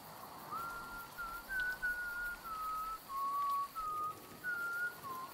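Whistling in the beta gameplay of the horror video game The Woods: a thin, fairly faint melodic whistle that wavers in pitch through a series of sustained notes, heard alone over soft background hiss.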